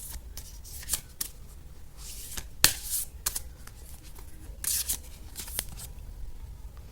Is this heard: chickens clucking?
no